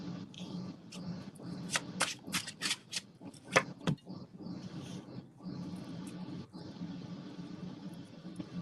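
Tarot cards shuffled by hand close up, giving a quick run of crisp papery riffles and sharp snaps that bunch together in the middle, then lighter soft rustling afterward, with no voices.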